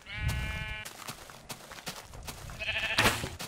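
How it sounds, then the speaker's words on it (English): Sheep in the Minecraft video game bleat twice, a clear wavering bleat at the start and another near the end, with soft game ambience between the calls. "Hey, do I hear a sheep?"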